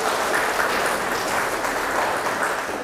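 A church congregation at an evangelistic rally in Jakarta claps and cheers for Jesus, dense continuous applause mixed with shouts filling the hall, steady and loud throughout.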